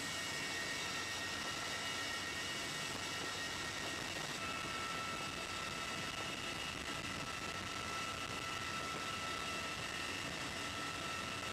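Heavy, constant rotor and engine roar inside the dim cabin of a CH-47 Chinook twin-rotor military helicopter in flight, a dense steady drone with no talk heard.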